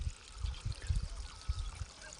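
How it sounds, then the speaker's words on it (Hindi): A small flow of water trickles and gurgles as it runs into a rice paddy nursery in a mountain village in Pithoragarh, Uttarakhand, a soft uneven pouring close by with no talk. "अब ये पानी आ रहा है मेरा छोटा छोटा, ये पानी आएगा, इसके बाद धान की नर्सरी भर जाएगी।"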